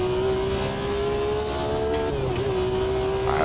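A car engine revs hard under acceleration while the driver practises heel-toe shifting, a loud, near, steady drone that rises slightly, dips briefly mid-rev, then holds again.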